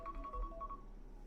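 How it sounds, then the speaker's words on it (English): A phone alarm goes off with a short series of faint, evenly spaced electronic beeps, quiet and close, with no talk. "that was my alarm"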